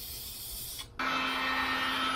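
Spray paint coat being applied to Dodge RAM custom tail lights: a steady, close aerosol hiss that starts abruptly after a brief pause and runs on without talk.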